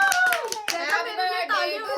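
Children clap their hands after a stone-paper-scissors game, in a few sharp bursts of close claps as their excited voices chatter over and between them.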